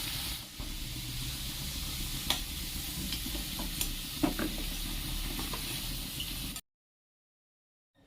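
Pieces of guri kochu, small taro corms, fry in hot oil with a continuous sizzling hiss and occasional scraping clicks from stirring, then the sound cuts to silence near the end.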